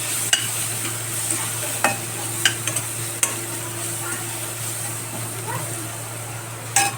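Peas and potatoes with turmeric are stirred in a pan, giving a low steady sizzle under a constant hum, with scattered clinks and scrapes of a spoon against the pan's metal.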